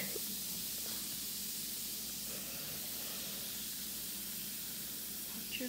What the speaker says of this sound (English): this is fizzing so much